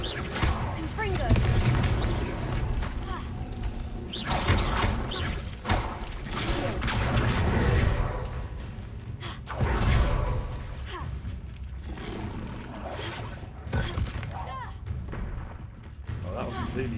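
Repeated Confringo fire spells go off in Hogwarts Legacy as a series of booming, crackling blasts spread over the stretch, each with a thumping impact, amid game noise and a voice.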